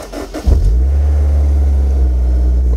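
A Honda S2000 with a newly installed K&N intake cranks briefly and fires up, settling into a loud, steady close-up idle rumble that continues alone.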